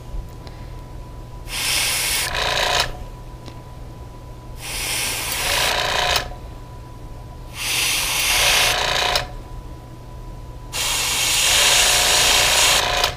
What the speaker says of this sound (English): You don't have to spray real heavy.